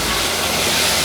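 Carrots and French beans sizzle in garlic butter in a stir-fry pan, making a loud, dense, continuous hiss and crackle that stays steady from start to end, with no talking over it.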